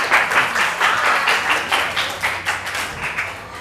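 Classroom applause from a group of students, a short burst of rhythmic, fairly loud clapping in quick, uneven pulses that gradually settles into a looser beat.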